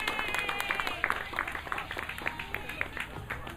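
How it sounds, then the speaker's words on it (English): An audience claps for a company at a live event, a dense, steady round of applause with sharp individual claps throughout, fairly close and loud, with no talk over it. "So let's give Your Taco Connect a big round of applause"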